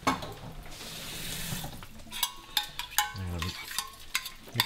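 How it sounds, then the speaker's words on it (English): Water is poured into a pan of jam for a French toast recipe, a steady splashing pour that gives way to light scraping and clinking. "I'm going to take a bit of water."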